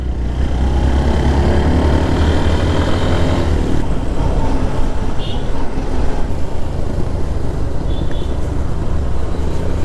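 A Hero Thriller motorcycle engine drones steadily in fourth gear while climbing a steep hill road to Sajek, a close, continuous low rumble mixed with wind noise.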